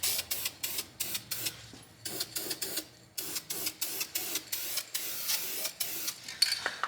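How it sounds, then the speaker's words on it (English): An aerosol can laying a quick coat of primer on a Fox-body Mustang: a rapid series of short, hissing spray bursts in a steady rhythm, close and fairly quiet. "Hit it with a quick coat of primer."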